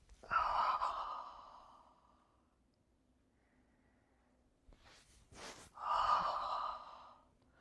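Two strong breaths exhaled close by during a rolling exercise, one early and one near the end, with a quiet stretch between them and no talking.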